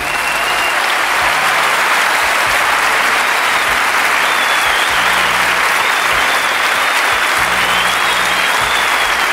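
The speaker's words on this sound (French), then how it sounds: "Je voudrais qu'on les applaudisse tous ensemble," A packed Olympia audience in Paris applauds loudly and continuously at the close of Jean-Marie Bigard's 1993 stand-up comedy show, a thick, sustained roar of clapping with low rhythmic music thumping beneath.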